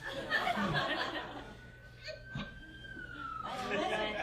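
A faint siren wails outside a comedy show venue, a thin rising and falling tone under audience laughter and someone speaking.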